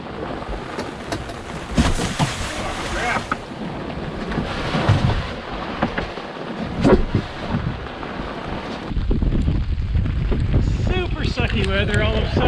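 Strong wind buffets an old sailboat, a loud continuous roaring rush with gusty swells and rumbling microphone noise, as water and boat sounds mix in and a voice speaks over it.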